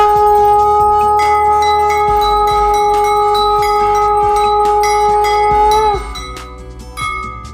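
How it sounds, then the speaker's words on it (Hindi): A hand bell rung during a Satyanarayan puja, a bright sustained metallic ringing with long overtones that holds steadily for about six seconds, then fades as a few softer strikes follow, close and loud with no talk over it. "घंटी बजा दो एक बार।"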